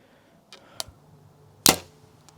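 A Mathews VXR 31.5 compound bow releases an arrow with a sharp snap and a loud thwack at close range, following a couple of quieter clicks, with no talking.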